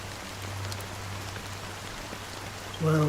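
Steady rain patters and hisses continuously, close and moderately loud, with a low hum underneath and a brief tonal sound right at the end.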